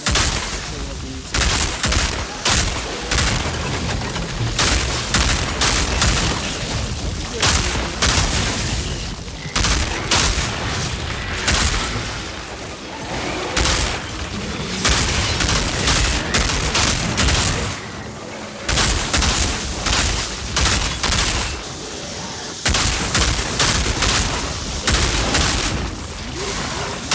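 Gunfire in the video game Outriders, with dense bursts of rapid shots and loud impacts repeating in clusters throughout, separated by brief pauses.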